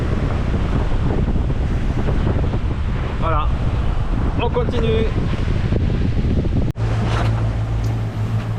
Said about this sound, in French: Donc on tient toujours un vent à 18 nœuds, 19 nœuds